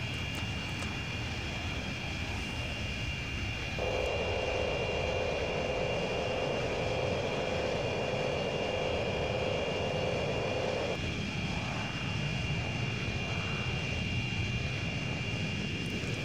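Saab J32 Lansen jet in a flight-sim game mod, its engine roaring steadily and loudly throughout, with a sustained whining tone that swells midway and then settles, with no talk.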